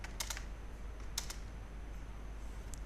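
HTML code being typed on a computer keyboard: a few soft, quick clusters of key clicks over a steady low hum, faint and close, with no talking.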